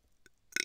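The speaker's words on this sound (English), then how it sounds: "Oh wait, I'm gonna burp." A short, close, fairly loud burp from a person, preceded by a faint brief throat sound, with no talking during it.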